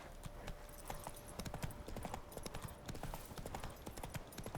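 Horse hooves clip-clop in a steady, rapid rhythm as a horse is ridden in a video game, the trotting beat faint and continuous throughout.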